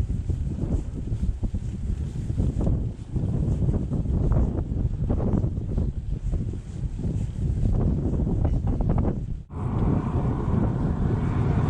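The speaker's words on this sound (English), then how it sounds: "Massive headwinds, 7 kilometres an hour." A strong headwind buffets a cyclist riding in the Australian outback, roaring steadily and loudly across the microphone with gusty surges and a brief dip near the end.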